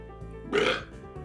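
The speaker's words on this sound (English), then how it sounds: "have the burps, and it's really disgusting." A single short, loud burp rises out of quiet background noise.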